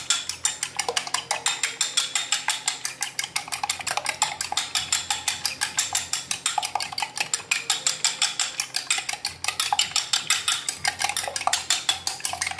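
Eggs with salt and pepper are beaten for a bacon and cheese omelet, making fast, even clinks of a utensil against a bowl that repeat steadily and close up with no talking.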